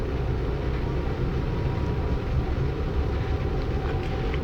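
Steady rumble and rolling noise inside a moving passenger train, continuous and fairly loud with no talking.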